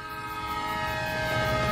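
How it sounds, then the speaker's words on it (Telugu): A train arriving in a Telugu movie scene, with a sustained horn or whistle tone over low rumbling, steady and growing slightly louder, with no voices. "ట్రైన్ వచ్చింది"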